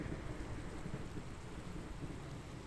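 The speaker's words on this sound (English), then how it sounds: "Thunder." Steady rain pours with a deep thunder rumble rolling underneath, a continuous loud storm wash in the blocky survival game Minecraft, with no voices over it.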